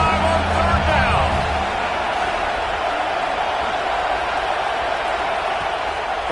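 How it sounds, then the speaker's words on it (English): Ohio State Buckeye football crowd at a stadium on third down, a broad sustained roar of cheering that stays steady throughout, with a brief low band tune at the start. "the Buckeye crowd alive on 3rd down"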